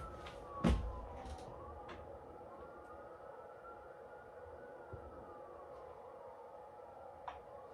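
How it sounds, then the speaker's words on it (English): A police car siren wails on 21st Street as the car passes at a distance. The gliding tone is faint under low street noise, with one sharp knock near the start. "There's a police car."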